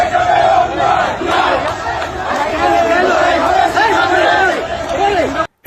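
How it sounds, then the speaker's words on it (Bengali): Crowd noise from a political procession on the street, a dense continuous mass of voices with rhythmic chanting and shouts, loud and sustained throughout, cutting off abruptly at the end. "হ্যাঁ, চাচ্ছু দলের মিছিল দেখেন"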